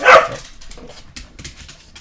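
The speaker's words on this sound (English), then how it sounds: "Dog." A dog gives one sharp, loud bark close by at the start, followed by a few softer, fainter yips and noises.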